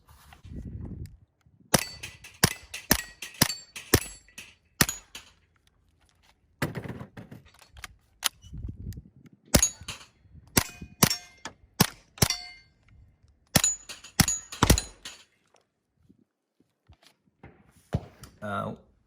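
Suppressed Kriss Vector Gen 2 9mm firing in quick bursts and strings of sharp cracks with short pauses in between, heard at moderate distance with a faint voice underneath.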